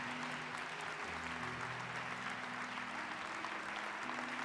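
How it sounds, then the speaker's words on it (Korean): A church congregation at a revival gathering applauds a musical worship team with steady, dense clapping, while sustained low organ or keyboard tones sound beneath it. "또 우리 뮤지컬 찬양팀을 위해서 다시 한번 큰 박수 주시면 좋겠습니다."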